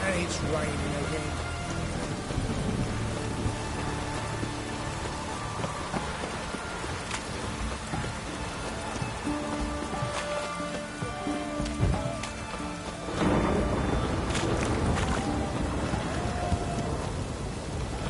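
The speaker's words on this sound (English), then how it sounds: "It's raining again." Steady rain patters on a surface throughout a video game scene, with a fuller burst of downpour near the end and voices talking faintly beneath it.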